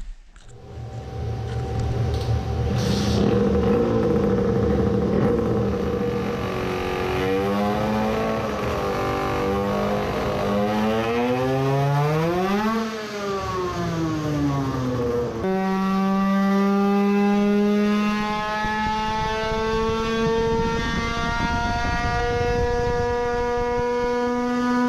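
A tuned 20-horsepower moped engine revs hard on a test run, its high whining pitch sweeping up and down through the gears, then holding a sustained loud scream, with no talking.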